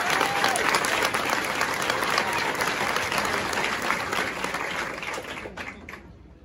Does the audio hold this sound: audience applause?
yes